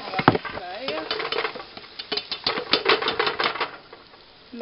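Minced garlic goes into a hot pan with a little water over high heat, giving a short clatter of a utensil scraping and stirring against the metal along with a faint sizzle, close and uneven.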